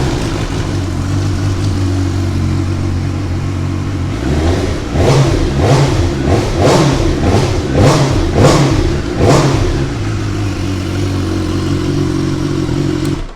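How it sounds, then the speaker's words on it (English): 2016 BMW S1000R Sport ABS motorcycle engine idling loud and close, then a series of sharp throttle blips revving up and dropping back before settling to idle again. "We'll get it fire up so you can hear it."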